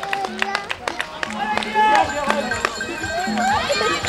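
Spectators at a junior cyclocross race clap and cheer at the finish line as a rider crosses, brief scattered applause under an announcer's steady commentary.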